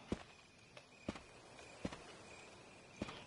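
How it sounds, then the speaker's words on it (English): Footsteps in the Resident Evil Remake game: four sharp, evenly spaced thuds roughly a second apart, faint and slightly distant, each with a small trailing echo over a quiet hum and a steady high whine. "I hear footsteps."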